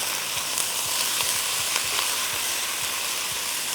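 Minced mutton being stirred and broken up in a hot pan, with a continuous sizzle of frying and a regular series of soft spatula scrapes and knocks underneath, no talking.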